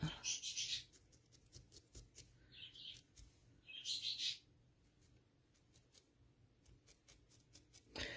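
A pet bird gives faint, high chirps in a few short clusters near the start and middle, with soft ticking sounds between them in an otherwise quiet room.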